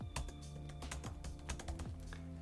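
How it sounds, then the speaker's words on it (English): Keys clatter rapidly on a powered-off Razer Blade 15 2020 laptop keyboard, with close, dense clicking throughout over a steady background hum. "typing away whilst it's turned off"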